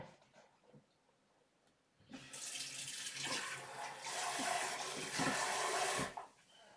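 Ginger juice pours and trickles through a strainer after a quiet start, a steady splashing liquid stream running for about four seconds before tapering off.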